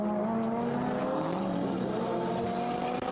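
Two cars launch in a street drag race, engines screaming as they rev up through rising gear tones, loud and close, with a brief tire chirp at the end and no talking.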